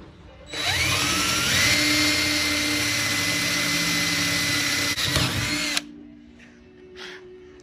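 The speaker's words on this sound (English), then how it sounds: "We'll drill our pilot holes first, which is a smaller hole, followed by a bigger hole" A power drill bores pilot holes into the bottom of a metal winch box for a trailer, a single loud, steady whine lasting about five seconds that rises briefly in pitch at the start, then stops abruptly.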